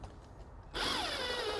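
A power screwdriver driving a small trim screw into a polyurethane foam column wrap, a sudden whirring burst that starts after a quiet moment and runs steadily to the end, close by with no talking.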